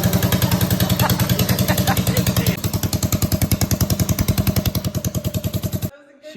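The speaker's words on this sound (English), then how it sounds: "We're going to try to cold start it and see how it stays on" A mini bike engine, cold-started at night, runs close by with a rapid, steady putt-putt idle that speeds up slightly, then cuts out abruptly near the end.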